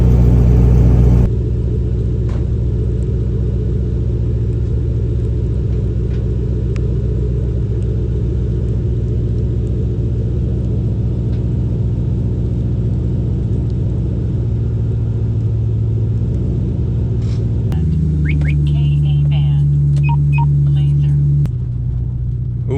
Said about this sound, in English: Now that it's coming down to an idle, it's very manageable tone.